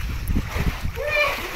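Water splashes in a village well as people jump in, giving a few quick close sloshes and a churning surge, with a voice talking over it.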